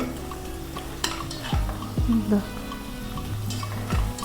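Onions are sautéed in a pan, with a low steady sizzle under repeated spoon scrapes and clinks against the metal, a few sharper knocks standing out, all fairly quiet and close.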